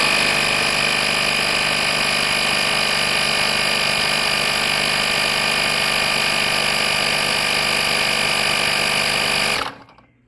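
A FORTEM digital tire inflator runs steadily as it pumps air into a car tire set for 30 PSI, a loud continuous motor buzz with a whiny rattle that holds level for about nine seconds before cutting off abruptly.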